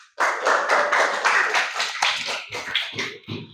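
A classroom of students claps for a presenting group, a burst of brisk hand claps that starts abruptly, holds for about two seconds, then thins into a few scattered claps.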